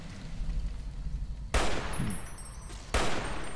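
Gunfire in Fallout: New Vegas, two sharp, loud shots about a second and a half apart, each ringing into a short tail over a steady low background rumble.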